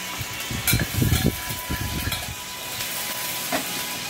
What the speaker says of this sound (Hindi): अब हम इसमें 1 चम्मच अदरक लहसुन का पेस्ट डालते हैं